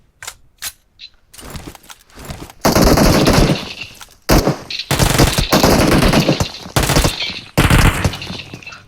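Rapid bursts of automatic gunfire in a battle-royale style video game, loud and repeated in several long volleys with short pauses between, close and dominant.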